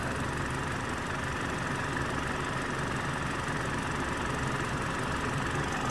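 A 2022 BMW X2 xDrive28i with a TwinPower Turbo four-cylinder engine idles steadily with a close, even low rumble and no pauses or voices.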